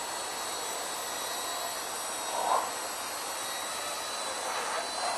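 An Esky 150X RC helicopter with a CC3D flight board flies outdoors in some wind, giving a steady, high, whining rotor and motor drone that holds fairly constant throughout.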